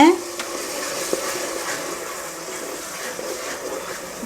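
Ground onion sautés in hot oil in a pan for a fish curry, with a steady soft sizzle and occasional scraping stirs, close by and moderately loud.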